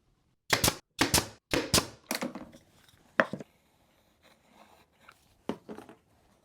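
Rapid nailing into wooden bike rack parts with 1.25 inch nails, a quick run of four or five sharp cracks followed by a few scattered softer shots with pauses between, close and alone in a quiet room.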